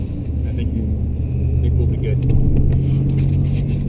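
BMW M5 with 560 horsepower driven fast on the Nürburgring Nordschleife as a ring taxi, heard from inside as a steady loud engine drone and road rumble, with people talking over it.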